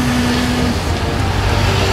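Steady roadway din from city traffic at night, a dense continuous rumble with a passing engine hum, loud and close, with no voices.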